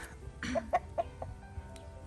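Backyard chickens in a small vegetable garden give a few short, close clucks in quick succession, then go quiet.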